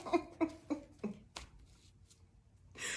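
Tarot cards are shuffled in a run of four or five crisp riffling bursts, close and distinct, followed by quieter handling rustles.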